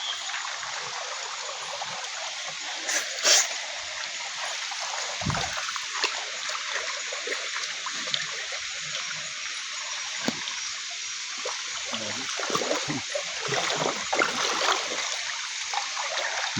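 A river current flows steadily in a broad, continuous rush of water that fills the whole scene, with a few brief splashes and gurgles rising from the steady stream.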